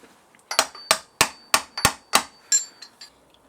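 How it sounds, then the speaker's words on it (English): Hammer blows drive an oil seal into the front fork of a BMW F650GS Dakar during a rebuild: about nine sharp, evenly spaced metallic strikes, close and loud, with a couple of lighter taps at the end. "And I'm just hammering it in, working it around, so then this clip is going to go into its groove."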